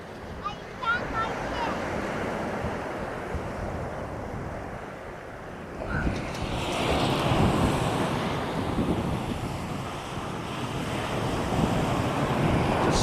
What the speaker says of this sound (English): Can't get out of the wind.